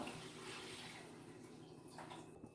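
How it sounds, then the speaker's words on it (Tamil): Water poured into a pot of rasam during cooking, a steady broadband splashing and trickling that runs continuously and fairly close throughout the short stretch, with no talk. "தேவையான அளவுக்கு தண்ணி சேர்த்துக்கிறேன்."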